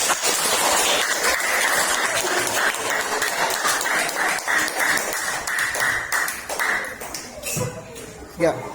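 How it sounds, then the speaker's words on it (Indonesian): Applause from a class of sixth-grade pupils at an Islamic primary school, dense broadband clapping running steadily for several seconds under talk, then thinning out near the end. "Beri tepuk tangan."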